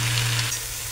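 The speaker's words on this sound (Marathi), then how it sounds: "तर आता मी पाणी ओतून घेणार आहे." Hot water poured into a hot pan of browned vegetables while cooking a Bhogi amti, a Maharashtrian lentil curry, giving a loud, steady sizzle and hiss throughout the brief moment, with no speech.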